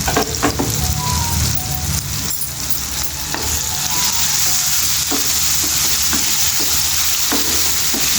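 Turmeric and sesame seeds sizzle steadily in a hot pan for tomato chutney, a continuous frying hiss with occasional light stirring clicks throughout.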